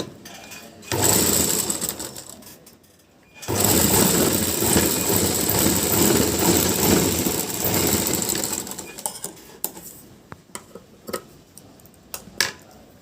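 A sewing machine stitching cross belts for a blouse runs in two loud, steady whirring bursts with a short pause between them, then gives way to scattered clicks and handling taps.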